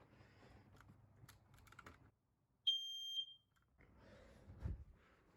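A smoke alarm gives one short, shrill electronic beep during a monthly fire alarm system test in an office, with quiet clattering and handling noises before and after.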